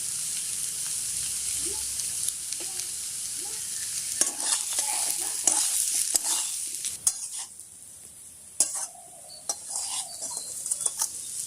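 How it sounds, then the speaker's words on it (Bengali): Poppy seeds fry in a hot pan for a potato dish, with soft sizzling under frequent metal spatula scrapes and clinks against the cookware, some sharp and close. "পোস্তটা দিয়ে দিচ্ছি।"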